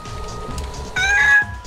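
A cartoon cat meows in the video game BattleBlock Theater, a short, bright call of about a second over quiet game background.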